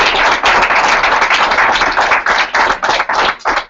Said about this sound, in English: we want y'all to give everybody kind of a round of applause